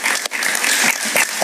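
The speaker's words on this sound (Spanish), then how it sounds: "Un gran aplauso para Urdaneta." Studio audience applause on a talk show, loud dense clapping filling the whole short moment without pause.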